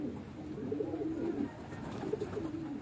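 Low, rolling coos from pigeons on a Multan rooftop loft come in two bursts, the throaty calls fairly close and continuous with no talking over them.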